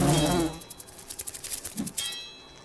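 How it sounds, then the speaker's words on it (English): Wasps in the video game Lords of Xulima buzz in quick, fluttering pulses, with a denser burst at the start and near the end, loud and close, with no talk. "I hate the wasps. They are the worst thing I've ever seen in my entire life."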